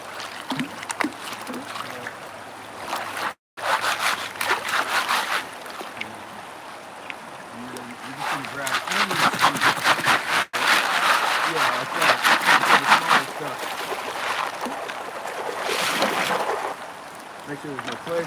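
A gold pan full of gravel is plunged into a river and swirled, giving steady watery sloshing and splashing with a few brief pauses. A person speaks over the water.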